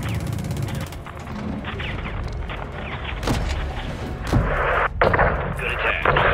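An AC-130 gunship in Call of Duty Modern Warfare II fires rounds at a convoy in Mexico, giving loud repeated booming impacts and crashes over a constant engine drone.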